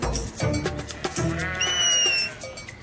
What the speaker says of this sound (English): And the sheep are coming down just now.